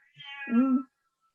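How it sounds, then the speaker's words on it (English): A cat gives a single clear meow indoors during a town council meeting, close and fairly loud, rising then falling, with no talk over it. "Who's got a cat?"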